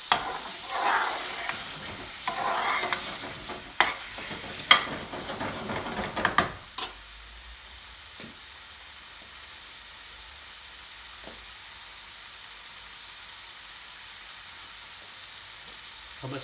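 Base gravy for a hot chicken and aloo Madras curry sizzling with spices in a pan and being stirred, with clattering stirring and bubbling over the first seven seconds, then settling to a quiet low simmer hiss.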